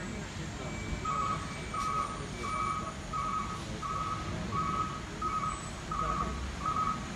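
A fire ladder truck backing up at a building fire, its reversing alarm sounding a steady series of about ten evenly spaced beeps at moderate distance over a low rumble of engines and outdoor noise, with people talking nearby.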